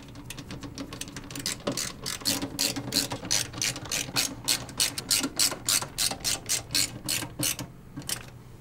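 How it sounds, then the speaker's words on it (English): Screws are driven to fasten a water-cooling radiator with washers to the top of a PC case, a close, steady ratcheting clatter of a hand screwdriver in quick repeated bursts. "And secure it with the screws and washers."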